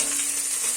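Onions and curry leaves frying in a pan give off a steady, close hiss of sizzling oil, unbroken and even for a brief moment with no voices.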